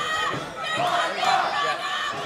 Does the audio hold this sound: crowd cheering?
yes